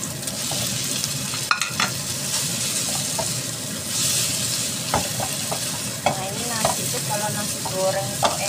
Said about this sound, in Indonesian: bumbunya dulu diaduk-aduk merata, baru nasinya kita masukkan ya